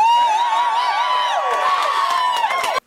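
A rowdy crowd of exhausted supporters cheers and whoops for Senator Jon Tester at an election-night event, a loud, continuous mass of voices that cuts off abruptly.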